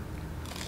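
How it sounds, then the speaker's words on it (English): A single crisp crunch of someone biting into food during a quiet breakfast, close to the microphone and over in under a second. "That's the crunch."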